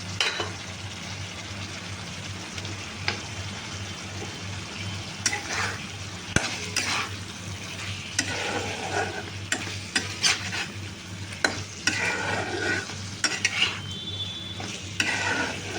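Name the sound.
ripe jackfruit dila poured into a pan, sizzling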